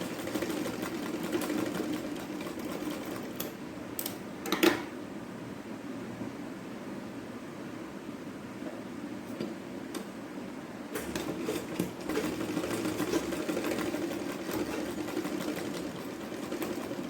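A sewing machine stitches the top of a child's umbrella frock, running in a steady close mechanical whir with a few quieter gaps and clicks and no speech.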